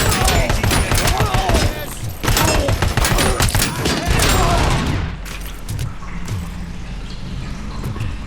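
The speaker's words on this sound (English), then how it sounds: "those shotguns are no jokes that they have" Enemy shotgun fire in RoboCop: Rogue City: loud, repeated heavy blasts and gunfire crowd the first few seconds, then fade into a lower rumble of combat and ambient noise, with someone talking over it.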